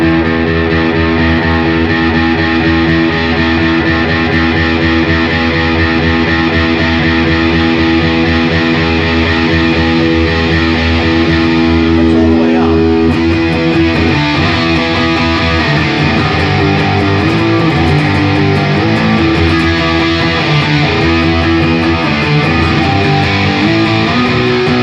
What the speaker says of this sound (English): I'm going to go through the range of the distortion so you can hear it.